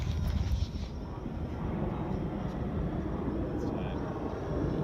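A drone flies overhead, a steady broadband engine drone that holds at an even, fairly loud level for the whole span, with light wind buffeting over it and no talk.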